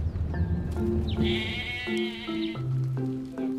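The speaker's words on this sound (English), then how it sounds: "There's all the sheep waiting for us to select one." A flock of sheep waiting in a pen bleats repeatedly, with several wavering calls overlapping and following one another at close range, with no voices.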